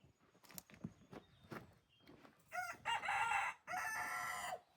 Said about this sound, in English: There go my rooster.